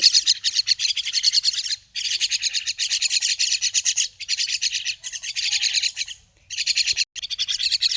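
Hungry myna birds call near a house in rapid, loud, harsh chattering bursts. The bursts repeat almost without pause and sound close by, with no voices.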